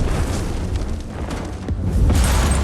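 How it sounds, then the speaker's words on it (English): A large explosion in the middle of a rioting crowd comes as a loud, sustained, rumbling roar with heavy low-end boom that swells again toward the end. "The explosion caused a large number of casualties in the surrounding people and police officers to maintain order."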